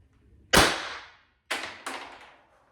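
Three sharp gunshots from a Pistelle X.68 pistol fitted with a compensator barrel, one loud crack followed about a second later by two closer-spaced reports, each with a short decaying tail and no talk.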